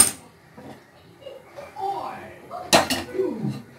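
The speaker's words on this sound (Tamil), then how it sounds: "இப்போ நாம் ஸ்டவ் ஆன் பண்ணி பேன் அடுப்பில் வச்சிடலாம்." A cooking pan set down on a stove for a cabbage stir-fry: a sharp metallic clatter of pan on burner, with lighter scraping and handling noises before it, fairly close and with no talking.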